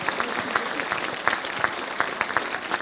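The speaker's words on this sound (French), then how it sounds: "je vous demande d'applaudir Ingrid Joseph-Fagnard" Applause from the crowd at a French mayor's New Year ceremony for an honoree: a few seconds of continuous clapping with several sharp, close individual claps standing out.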